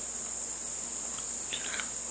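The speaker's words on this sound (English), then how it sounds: "I don't know if you can hear the crickets and the birds." Crickets chirp steadily outdoors with a high continuous trill, and a brief bird call pipes up partway through, faint over a quiet background.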